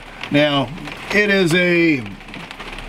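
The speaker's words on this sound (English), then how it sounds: "It's raining on me right now, or raining outside" Steady rain patters outside a greenhouse, a constant soft hiss running beneath someone talking close by.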